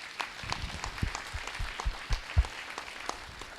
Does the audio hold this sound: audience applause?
yes